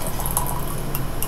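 Tea is poured from a height into a cup, a steady splashing stream with bright droplet spatters throughout the short pour.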